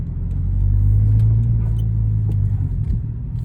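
A Toyota GR86 or Subaru BRZ with a six-speed manual gearbox drives along, its engine giving a low, steady rumble that swells slightly and then holds, close and clear with no talk.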